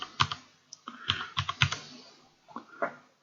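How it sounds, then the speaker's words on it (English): Brisk keystrokes on a computer keyboard, a close, irregular run of clicks in short bursts with brief pauses, no voices. "I'm just going to type out autumn, all in capitals."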